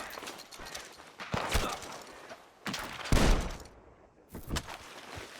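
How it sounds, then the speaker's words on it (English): Gunfire in Red Dead Redemption 2, several loud sharp bursts spaced a second or so apart, ringing out from a barn with thuds and hoofbeat-like clatter between them. "The gunshots are coming from that barn."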